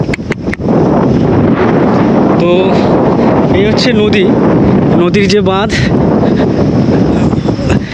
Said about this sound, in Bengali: এখানে প্রচুর হাওয়া দিচ্ছে